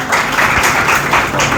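A classroom group claps for a student's answer, a short burst of mixed clapping rising and falling over about a second and a half, fairly loud and close.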